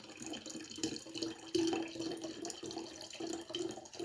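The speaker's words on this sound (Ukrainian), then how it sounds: "Це ми в кувшин наливаємо з вами." Water pours steadily into a jug, a continuous splashing trickle at close range, fairly quiet with slight changes in flow.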